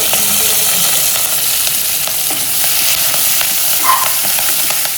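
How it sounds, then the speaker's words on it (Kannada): Chilli chicken frying in a pan, a close, loud, steady sizzle with faint scrapes and crackles throughout. "ಇತ್ತೆ ಒಂದು ಪೂರ ಫ್ರೈ ಆಯ್ಬೇಕ"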